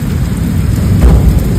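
Heavy rain pours down in a loud, steady roar with low rumbling thunder beneath it during a thunderstorm near a dam, with no voices.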